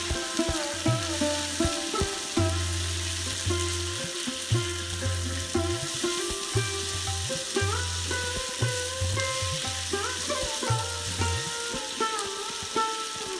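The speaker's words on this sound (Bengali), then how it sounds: "এই তেলের মধ্যে বরবটি দিয়ে আদা ভাজা করব।" Long beans with ginger frying in oil in a pan, a steady sizzle with repeated stirring clatters and scrapes at a regular pace, heard up close.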